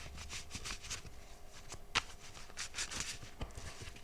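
Tarot cards being shuffled by hand, a soft repeated riffling and flicking with a few sharper snaps, quiet and close, with no talking.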